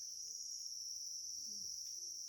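Crickets on a cricket farm, a dense continuous high-pitched chirring that stays steady and even throughout, with faint low background murmurs beneath.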